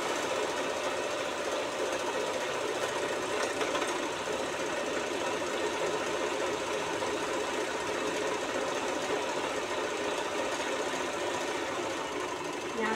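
Sewing machine stitching the hem of a kaftan kurti, a continuous rapid mechanical chatter that runs steadily throughout at moderate volume.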